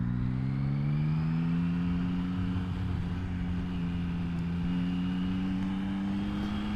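A 2021 Yamaha MT-09 motorcycle engine on a test ride, a loud continuous drone that rises steadily in pitch as the bike accelerates through a gear, with wind rush underneath.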